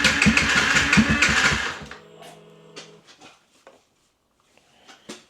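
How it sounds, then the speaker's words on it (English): A Yamaha MT 125 motorcycle engine cranks and catches, running loud and rough for about two seconds before cutting out, followed by faint scattered clicks and knocks in a quiet workshop. "Sometimes it can take a bit of cranking just to get them started."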